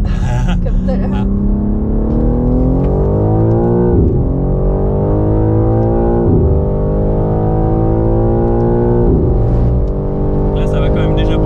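A car accelerates hard along a road, heard from inside. The engine note climbs in pitch through repeated gear changes and stays loud and close throughout.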